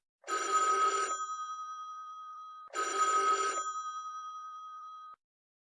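Two long bursts of an electronic telephone ringer, each roughly a second of warbling trill with a fading tone after, near and clear, with no voices.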